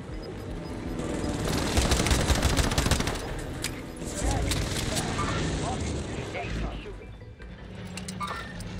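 Sustained bursts of automatic rifle fire and explosions in a Call of Duty Warzone Pacific Resurgence match, loud and dense for several seconds, then thinning into scattered shots.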